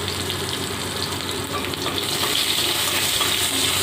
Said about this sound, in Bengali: নুন আর হলুদ দিয়ে আলুটা ভেজে নিচ্ছি।